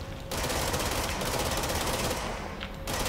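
Sustained automatic gunfire from the video game Control: The Foundation DLC, a dense, loud rattling burst running nearly unbroken for about three seconds with no talking.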